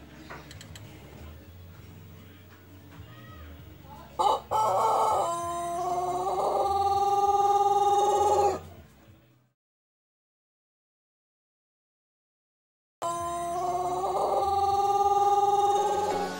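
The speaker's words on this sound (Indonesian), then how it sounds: "cara penanganan ayam yang suara kokoknya itu ngurulung" A Pelung rooster crows with a long, drawn-out warbling call, two loud sustained crows separated by a silence, near and clear over faint background noise.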